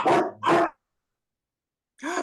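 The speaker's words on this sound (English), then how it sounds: "Here comes the dogs." A dog barks close by, two quick loud barks and then a third after a pause of over a second, with silence between them and no voices.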